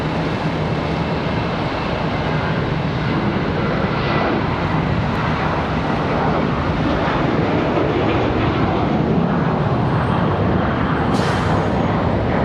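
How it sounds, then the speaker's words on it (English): An American Airlines A320-200 jet on its takeoff roll at Charlotte Douglas roars loud and near with a sustained, building engine rumble, alone without talk. "American 3233, an A320-200. Going to be our next departure off to Syracuse"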